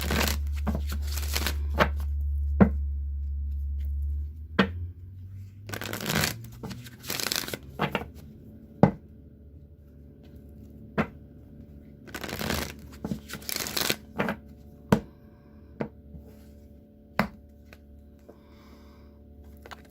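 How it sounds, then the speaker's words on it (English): Several quick riffles of a tarot deck being shuffled, separated by soft taps and quiet handling, close and clear in a quiet room. "I'm going to shuffle again, cut the deck, and draw 1 more card"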